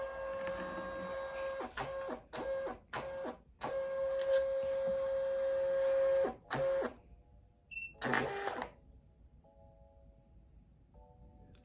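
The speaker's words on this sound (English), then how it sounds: "The printer will begin automatic label identification." A thermal label printer runs automatic label identification: a steady whirring feed motor with a high tonal whine, broken by short pauses and clicks, then a few soft beeps and quieter mechanical ticks as it finishes.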